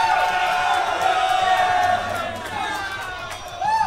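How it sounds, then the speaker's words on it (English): Excited crowd at a Super Smash Bros. Melee esports tournament in North Carolina, a steady loud roar of cheering and whooping with babble that dips slightly midway and swells again at the end. "The crowd getting excited temporarily."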